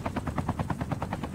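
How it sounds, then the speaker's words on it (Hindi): A helicopter and rapid gunfire in the Call of Duty video game make a steady, pulsing chatter of evenly spaced beats, loud and continuous throughout, with no voices. "ओ यहाँ पे एक और हेलीकॉप्टर है, आप लोग देख सकते हो।"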